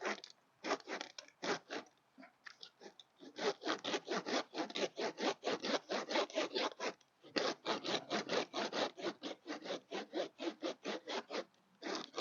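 A hand saw cutting through a thorny palm tree petiole during pruning. Close, rhythmic back-and-forth rasping strokes come in bursts with short pauses between them.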